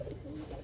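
A Kaldum pigeon coos in a short, low continuous burst, close by and steady, with no talking.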